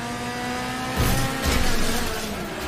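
A car engine revs and races in the Wreckfest video game during a banger race, a loud sustained engine drone that surges in two rough bursts of acceleration.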